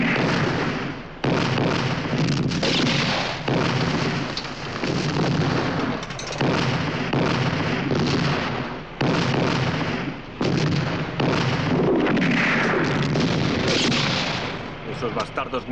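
Artillery guns fire in a 1969 war film about the Battle of El Alamein, heavy booms and blasts repeating over a dense, loud battle din for the whole stretch, with shouted voices mixed in.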